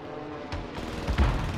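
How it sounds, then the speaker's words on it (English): A stun grenade bursts in Call of Duty Modern Warfare, a close, loud, muffled boom that swells through the low end and then rumbles briefly, with no talking. "Stun grenade out."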